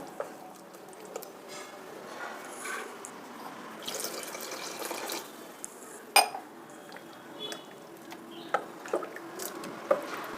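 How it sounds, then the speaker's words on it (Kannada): Water is added to neer dosa batter made with bottle gourd and cucumber. Soft pouring and trickling water mix with light clinks of a bowl and utensil and occasional sharper taps, all fairly quiet and close. "ಫ್ಲೋಯಿಂಗ್ ಕನ್ಸಿಸ್ಟೆನ್ಸಿಗೆ ಎಷ್ಟು ಬೇಕೋ ತೆಳ್ಳಿಗೆ ಅಷ್ಟು ನೀರನ್ನು ಆ್ಯಡ್ ಮಾಡ್ಕೊಳ್ಬೇಕು"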